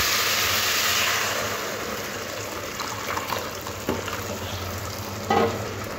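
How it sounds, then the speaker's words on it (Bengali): Spice paste for a fish head and moong dal fries in a pan with a splash of water, starting as a loud rushing sizzle that eases into softer bubbling with occasional clicks and scrapes of stirring. "দিয়ে মশলাটাকে খুব ভালো করে কষে নেব।"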